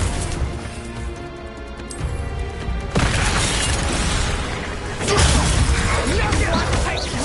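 A Confringo blasting curse goes off in a Harry Potter video game, with a loud burst and crashing debris at about 3 seconds and another at 5, over dense, continuous battle noise and music.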